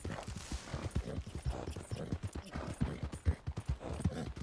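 Video game horse hooves, a piebald horse clip-clopping in a quick, steady trotting rhythm, close and clear, with no voices over it.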